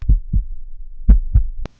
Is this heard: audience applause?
no